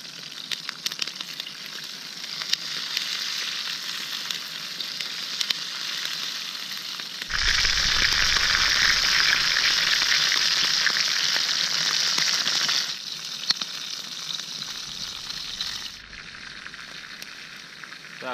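Perch fillets fry in a pan outdoors at a taiga camp, giving a steady loud sizzle that swells sharply midway and later eases, with faint crackles and no voices over it.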